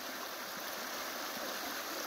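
A woodland brook with tea-colored water and mossy banks flows steadily, a close, even rushing and trickling wash with no pauses and no voices.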